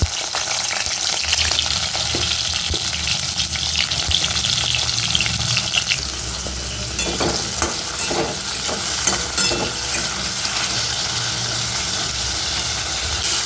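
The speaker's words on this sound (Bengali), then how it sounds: "এবারে ঝিঙেগুলোকে ভেজে নেবো" Ridge gourd sizzles loudly in hot oil with constant crackling and occasional stirring and scraping, close by and without talk.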